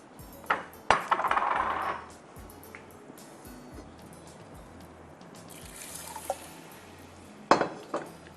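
Browned onions and water hit olive oil in a cooking pot, giving a burst of sizzling splash, then quieter bubbling with clinks of a utensil against the pot and another splash near the end.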